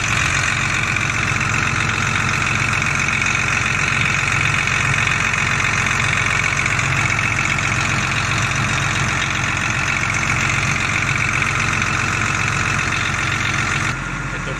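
A CAT DP150 diesel forklift engine idles steadily and loudly up close, with a constant rumbling drone and a faint knocking texture that holds unchanged for the whole stretch.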